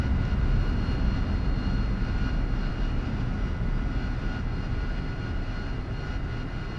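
An AV-8B Harrier jet in the DCS flight simulator rumbles with a steady, loud engine drone as it rolls on the runway after landing.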